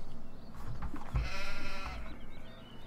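A sheep in Farming Simulator 2015 lets out a long, wavering bleat, fairly close and clear over a low rumbling background, with no talk.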